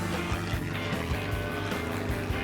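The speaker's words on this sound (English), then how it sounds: "I could feel the original Franklin engine pulling the airframe with all its might" Original Franklin engine of a vintage light plane in flight over Stockholm's archipelago, a steady loud droning hum with a faint rhythmic low pulse, close and continuous without talk.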